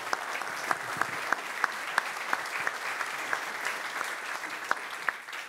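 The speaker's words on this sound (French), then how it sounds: "Si vous voulez bien applaudir nos deux intervenants." A conference audience applauds two speakers at the close of a talk on building raising and renovation in Nantes, a steady wash of clapping at moderate level with a few sharper claps standing out.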